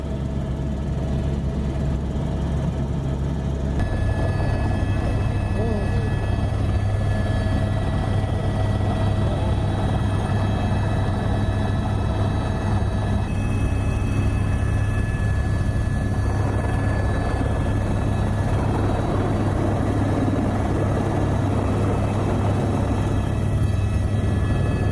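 A helicopter flies over flood-hit Rasuwa district in Nepal, its steady, loud rotor and engine drone continuing throughout with no break.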